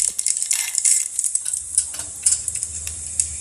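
Mustard seeds, black gram and bengal gram crackle and sizzle in hot oil in a kadai, a busy, bright frying hiss with rapid irregular pops throughout.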